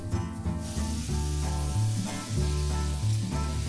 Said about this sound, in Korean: 집에 있는 채소를 취향대로 골라 볶아주고요.